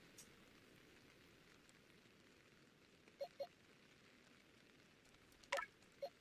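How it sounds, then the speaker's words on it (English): Soft, steady light rain ambience in a Pokémon Legends Arceus box menu, a faint even patter heard throughout, with a few brief quiet menu blips near the end. "you're in the menus of the boxes and you just get that light rain ambiance"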